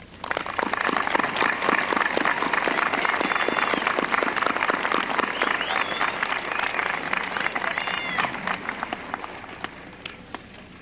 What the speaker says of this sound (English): Ladies and gentlemen, these are the 1993 graduates of Bellefontaine High School. They deserve your applause.